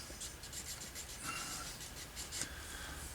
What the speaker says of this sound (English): just a little rubbing helps to stick the glue down good